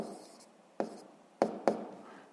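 A pen scratches across paper in a quiet room: a few soft strokes and three distinct taps or quick marks spaced apart, faint and close, with no voices over them.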